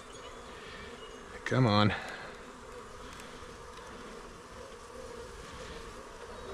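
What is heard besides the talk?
honey bees buzzing during package installation into hives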